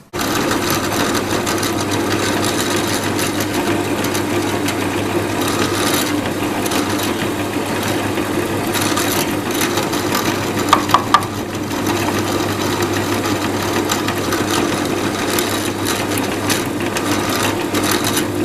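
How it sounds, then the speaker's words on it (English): A power drill whines continuously into wood, a steady close motor buzz with a couple of brief knocks near the middle. "that's where I need to drill my 2 holes"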